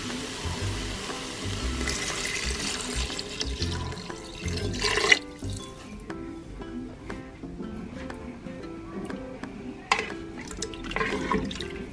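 Water poured into a pot of arroz atollado, arroz atollado cooking with meat, giving a steady close splashing and trickling pour with brief clatters, no voices.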